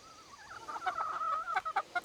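Chickens cluck nearby in a series of rising, wavering calls ending in short clipped clucks, fairly clear against a quiet background.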